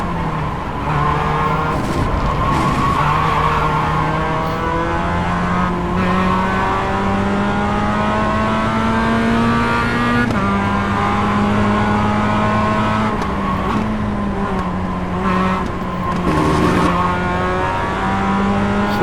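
A Mazda race car in the iRacing sim at Virginia International Raceway drones loudly and continuously, its engine pitch climbing and dropping through repeated gear changes, with no talk.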